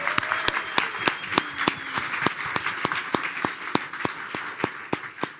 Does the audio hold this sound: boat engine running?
no